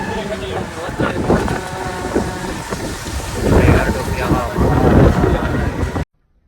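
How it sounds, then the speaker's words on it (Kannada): Wind gusting over a microphone outdoors in Pattaya, Thailand, a steady loud rumble and roar that swells toward the end, with people talking underneath. "ಸಣ್ಣ ಗಾಳಿ ಬರ್ತೈತೆ"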